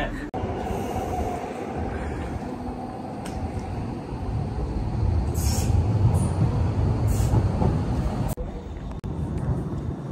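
A train rumbles steadily along with a constant rolling roar, occasional metallic squeals and clanks, no talking, sounding close as if from inside a carriage.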